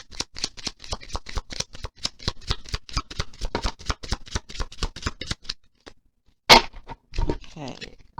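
Tarot cards are riffled and shuffled in a rapid run of crisp, close flicks, then a pause, a sharp slap as cards land, and a few final softer snaps.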